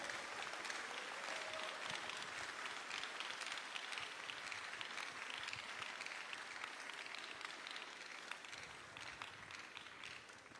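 A large church congregation applauds steadily and loudly, dense clapping sustained for about ten seconds with no voices over it.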